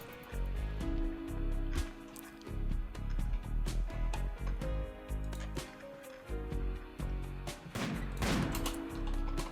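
Gunfire in a video game, dense bursts of sharp shots and impacts layered over a continuous game soundtrack, loud and busy throughout.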